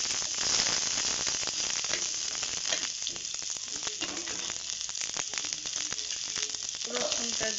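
Onions sizzle steadily in a hot pan for a Bengali coconut and jackfruit-seed mash, a constant crackling hiss broken by faint clicks of stirring, with no talking.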